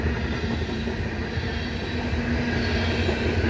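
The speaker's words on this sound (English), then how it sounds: "with the CN freight train here in the rain" A CN freight train rolls past Pointe Claire station on a rainy afternoon, a steady, loud low rumble of wheels and cars with rain hiss, continuous and near throughout.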